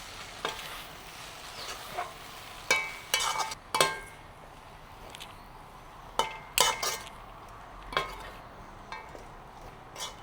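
A spoon scraping and clinking against a pan as chicken aval kothu is stirred, in sparse irregular strokes with soft sizzling from low heat underneath, no talking.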